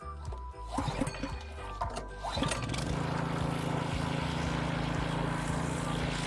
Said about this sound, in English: First step, start the pump.